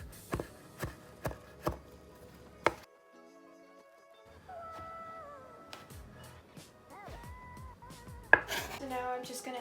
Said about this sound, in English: So now we can just finally mince the garlic.